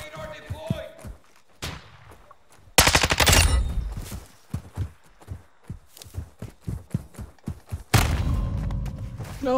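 Gunfire from a Lachmann 556 rifle in a Modern Warfare II multiplayer match. Sharp, close shots come in a loud rattling burst and then as scattered single cracks among thuds and footsteps.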